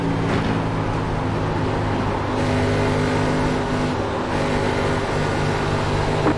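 Race car engines in the iRacing simulator during an oval race, a loud continuous droning roar of several cars running together, steady with slight surges in pitch and no pauses.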